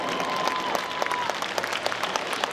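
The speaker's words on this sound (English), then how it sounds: "let's give him a huge round of applause" Large outdoor crowd at a seaside airshow in Clacton claps steadily after a Red Arrows display, a dense continuous patter of hands with scattered sharper claps, moderately loud and without talk.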